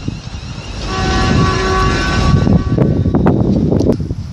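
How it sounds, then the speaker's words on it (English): A London Midland Class 350 electric train passes at Liverpool South Parkway station. A rising rumble swells and holds, with faint steady whining tones and rhythmic rail clatter near the end. "There goes London Midlands"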